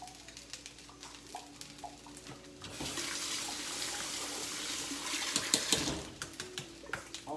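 Tap water runs into a sink while ingredients are rinsed for Chinese beef with black bean and fried rice, a steady rushing splash swelling loudly in the middle before cutting off to quieter kitchen clatter.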